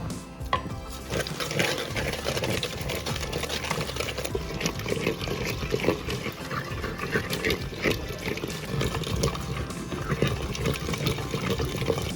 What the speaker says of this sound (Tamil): உப்பு ஆட் பண்ணிட்டு இப்போ மத்து வச்சு கடைஞ்சிக்கலாம்.